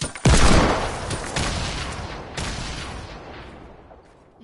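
Hand cannon gunfire in a video game: a loud booming shot opens, followed by two or three further heavy blasts with rumbling decay, close and without speech.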